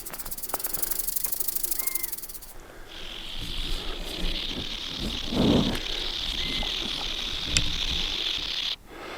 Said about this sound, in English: I could hear a rattlesnake off to what sounded like to my left.